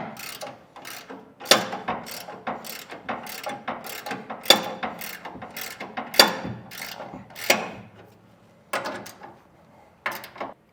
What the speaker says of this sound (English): You want that clamp to be drawn together evenly.